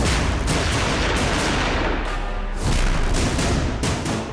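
Loud, rapid gunfire rattles on continuously, dense sharp shots blending into a harsh, crackling barrage.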